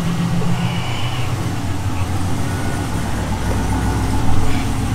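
A G-body car idles with a Hooker Blackheart rear-exit dual tailpipe exhaust, giving a deep steady rumble with a slight swell near the end, while a voice talks over it.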